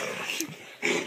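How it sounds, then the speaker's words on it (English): A dog growling in short rough bursts, with a brief yip-like tone in the middle, close and moderately loud with no talk. "He's just a dog, but he's Jaws, the man-eating dog."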